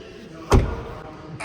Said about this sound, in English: The door is hard to fucking open.